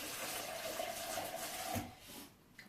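Tap water runs into a kitchen sink for mixing a shake, a soft steady stream at moderate distance that cuts off near the end, leaving a faint clink.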